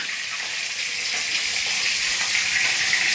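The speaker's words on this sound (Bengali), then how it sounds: "মাছটা ভাজা হোক" Fish fries in a pan with a steady, close, dense sizzle that holds constant throughout, with no talking.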